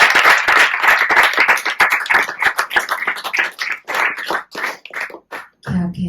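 Audience at a meditation gathering in Kaithal claps together in a sustained burst of close, dense handclaps that thin into scattered claps near the end, with a short low hum at the close.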